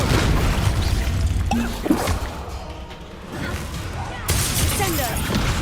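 Expulso spell blast in Hogwarts Legacy, a loud booming burst with whooshing and crashing debris over dense game noise, followed by another sharp blast near the end, with voices shouting over the action.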